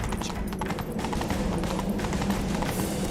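Hooves of a horse in the video game Witcher 3 clip-clop in a steady galloping rhythm, loud and continuous over a low rumbling game soundtrack.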